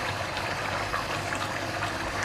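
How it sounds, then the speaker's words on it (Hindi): Water boils in a pot for biryani rice, a dense, steady bubbling hiss at moderate level with no pauses and no voices. "इधर ये चावलों को पानी को बॉईल आ गया"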